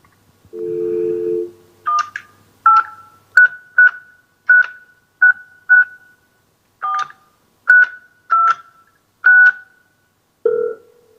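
A telephone line is dialed to a hotline: a short dial tone, then a series of about a dozen crisp touch-tone beeps in an uneven rhythm, ending with another tone, clear and close.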